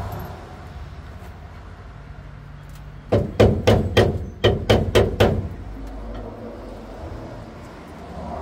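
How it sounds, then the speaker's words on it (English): Eight sharp metallic strikes of a hammer on a chisel while unhooking brakes, in two quick bursts of four, close and loud over a low steady background hum. "Hammer and a chisel."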